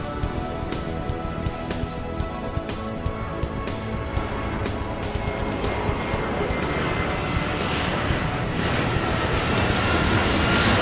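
A large jet takes off in the airport-control video game Airport Madness 3, a continuous loud engine roar with a rising whine that builds steadily, with no voices.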